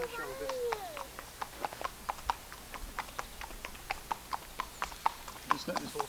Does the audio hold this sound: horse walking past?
yes